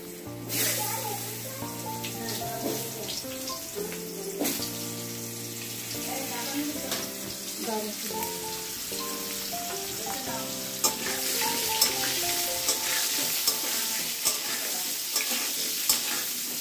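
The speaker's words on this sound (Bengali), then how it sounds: "আলুটা তেলের উপর দিয়ে দিচ্ছি।" Potatoes frying in hot oil crackle and sizzle, the hiss growing louder in the second half, with tonal background music throughout.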